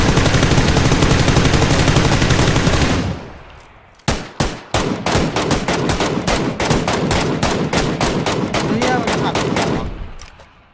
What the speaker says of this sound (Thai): มันได้ยินเสียงยิงเราอยู่แล้ว